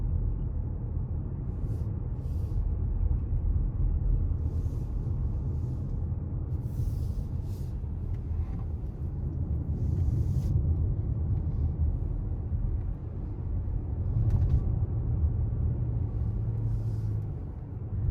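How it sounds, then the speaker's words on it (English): Steady low road and tire rumble inside a moving 2021 Toyota Venza Limited, a continuous cabin drone with no one talking and only slight swells in level throughout. "I'm going to be quiet so you can hear the road noise."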